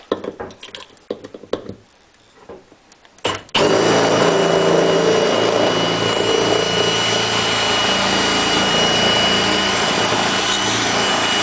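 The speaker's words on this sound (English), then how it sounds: "If there's a rivet in there, I'm going to have to drill it. I'm going to use this unibit." A step drill bit (unibit) bores out a rivet near a fuel pump electrical connector, a few short bursts first, then a loud, steady whirring grind that runs unbroken to the end.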